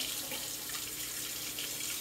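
Tap water running steadily onto a frozen turkey in a kitchen sink, a continuous close splashing hiss with no talk.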